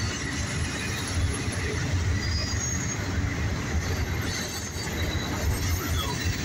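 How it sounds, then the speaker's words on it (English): A CSX autorack freight train rolls past at close range, its heavy low rumble and rail noise continuous and loud, with faint wheel squeal on top. "Watch the train."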